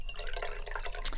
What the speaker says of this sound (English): Pour me a little bit more.